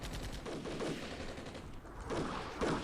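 Gunfire in the Armored Brigade war game: a few bursts of distant, muffled rounds, with two clusters of shots early and two more near the end, over a rough rumbling background.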